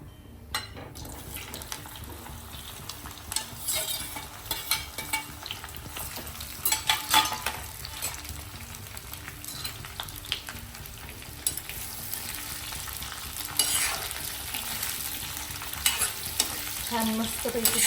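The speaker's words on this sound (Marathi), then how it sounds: "आणि भेंडी सोडून देऊया आता तेलामध्ये" Okra dropped into hot oil with cumin and mustard seeds, a loud close sizzle and crackle with frequent stirring scrapes and spatters throughout.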